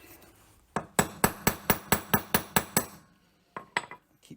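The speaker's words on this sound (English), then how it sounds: "So what I might do is just use this socket to hammer on." A socket is struck with a hammer to seat a part during an axle and steering re-install on a Jeep Cherokee; about nine sharp metallic strikes come in a quick even rhythm, then a pause and three more scattered taps.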